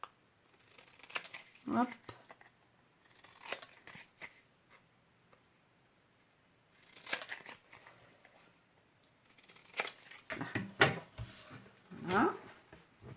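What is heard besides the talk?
cutting paper corners with scissors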